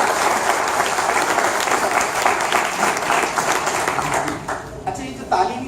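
A lecture audience at Comsats Lahore claps together in a loud, sustained burst that thins out near the end, with a few stray claps trailing off.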